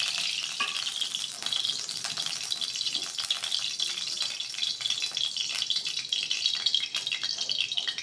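Mustard oil heats and sizzles in a kadai on a gas stove, a steady crackling hiss with light rattles and clinks close by, and no one speaks.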